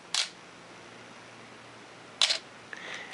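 A Canon AE-1 Program film camera fires its shutter at the 2-second setting: a sharp opening click, two seconds of quiet, then a closing clack followed by a faint mechanical whir, all close and clear.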